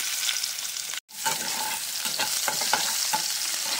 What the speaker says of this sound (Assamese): এতিয়া মাছ ভজা তেলখিনিতে পিঁয়াজখিনি দি অকণমান সময় ভাজি ল'ম।